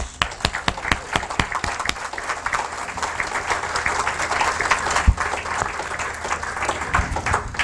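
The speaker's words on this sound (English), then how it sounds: "stand so we can give you a round of applause" An audience applauds class helpers at a gathering, with sustained clapping from a crowd that starts with a few distinct claps and swells into a steady, moderately loud round lasting several seconds.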